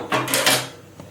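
Fabric for a churidar top is cut, giving a couple of quick, close, crisp snipping and rustling bursts in under a second before it trails off quietly.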